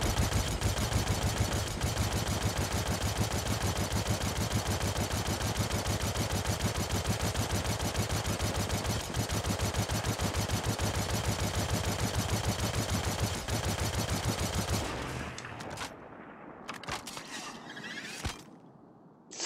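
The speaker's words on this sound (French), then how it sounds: "C'est pas une grosse cadence de tir, hein." Klaus & Werner Demeco light machine gun firing full-auto in Star Citizen, a loud sustained burst of rapid, evenly spaced shots lasting about fifteen seconds, then cutting off into quieter clatter and game noise.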